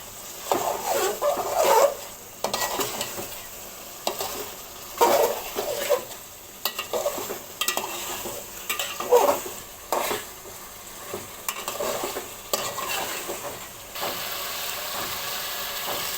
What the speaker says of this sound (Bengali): এভাবে এটাকে আমি আরও কিছুক্ষণ নেড়ে চেড়ে কষিয়ে নেব